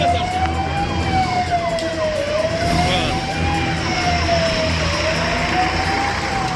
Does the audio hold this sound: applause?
no